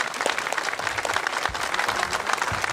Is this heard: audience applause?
yes